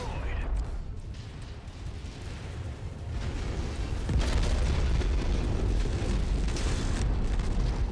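A destroyed enemy blows up in the game Merctech with a deep, heavy boom that swells into a sustained rumbling roar, loud and close, with a voice speaking over the start.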